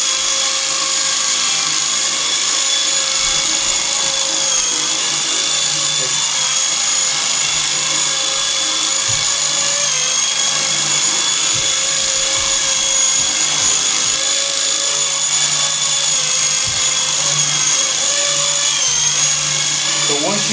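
A Traxxas QR-1 quadcopter flies indoors in a tight space, its rotors giving a loud, steady high-pitched whine with slight pitch shifts as the throttle changes. Someone talks over it intermittently.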